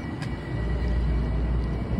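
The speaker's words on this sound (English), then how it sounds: "There's the train." A train rolls past as a steady, low rumble with a continuous broadband roar that holds even across the stretch, fairly close, with no talking.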